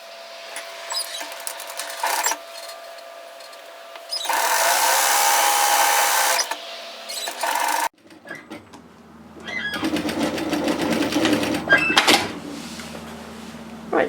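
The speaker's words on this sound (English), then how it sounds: "we'll just go straight across and sew the other shoulder" A sewing machine stitches the shoulder seam of a dress with puff sleeves in short bursts of whirring, with quieter pauses between runs and a louder, steady stretch partway through.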